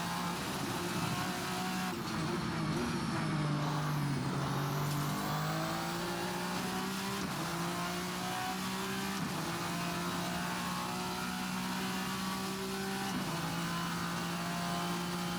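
In the Assetto Corsa racing game, a VRC Vendetta V60 race car engine drones loud and steady, pitch stepping up through gear shifts with brief dips between them, a harsh continuous racing note with no talk.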